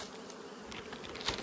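Wild forest bees, just caught and brought in from the woods, hum in a steady, dense buzz that fills the whole moment, with no voices over it.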